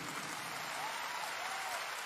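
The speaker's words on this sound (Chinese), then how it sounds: "我们这些掌声送给 Danny 好吗？" Concert audience applauding at a 2015 retirement gala concert in a large hall, a steady, evenly spread wash of clapping from many hands with no voices over it.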